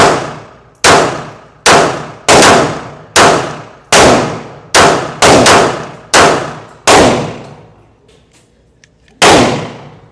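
Shots from an S&W Bodyguard 2.0 Comp .380 ACP pistol at a range, about ten loud sharp cracks with ringing decay in an uneven string, then a pause and one more.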